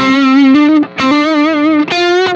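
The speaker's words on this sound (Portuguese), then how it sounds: "Eu gosto mais desse timbrão rasgado dele mesmo" High-gain distorted electric guitar through a Marshall JCM amplifier with a close-miked speaker, playing three loud, sustained, saturated notes with a brief gap between each, heard alone without talk.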